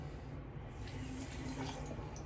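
Tap water runs steadily into a sink while shaving soap is being lathered, a soft continuous splashing hiss at moderate distance with no talking.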